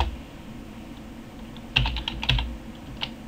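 Keys on a computer keyboard are tapped in a brief cluster of quick, crisp clicks, fairly close and moderately loud, after a stretch of quiet room hum.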